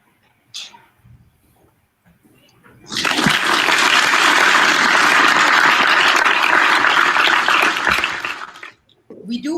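Applause for participants of an online COVID-19 quiz show, a loud, dense burst of clapping that starts suddenly after a quiet stretch, holds steady for several seconds, then stops.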